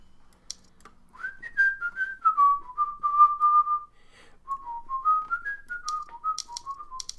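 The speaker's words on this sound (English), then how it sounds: "I like that song, so I'm whistling it." A person whistles a song, a clear melodic tune rising and falling in two phrases, close and alone, with a few faint clicks near the end.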